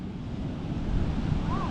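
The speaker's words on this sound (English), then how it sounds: "Let's see, a lot of waves." Sea waves washing onto a beach on a cloudy afternoon, a steady broad roar of surf with wind buffeting the microphone throughout, fairly close and continuous with no talk.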